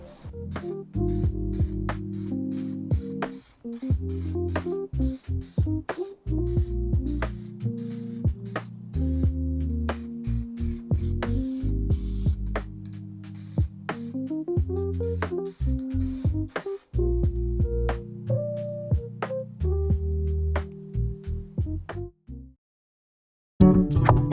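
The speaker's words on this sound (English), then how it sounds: "I'm going to hit them with the satin clear, try to give them a fresh, low gloss vinyl look" Satin clear coat is sprayed from an aerosol can onto vinyl headrests from a 1970 Plymouth Custom Suburban, in repeated short hissing bursts with brief gaps, close and fairly loud, ending in a pause.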